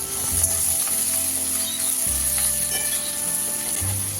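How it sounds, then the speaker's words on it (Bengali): Onions with ginger-garlic paste frying in a pan for a Kolkata-style chicken biryani give a steady, close sizzle that runs unbroken throughout, with no talking. "সবগুলো একসাথে নেড়েচেড়ে ভেজে নিতে হবে আরও কিছুক্ষণ"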